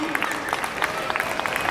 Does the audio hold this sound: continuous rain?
no